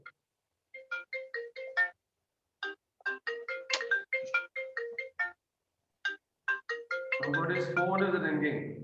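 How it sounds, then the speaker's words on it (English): A melodic ringtone plays in quick repeated bursts of tones with short pauses, followed by a voice speaking over it at the end. "Somebody's phone is ringing."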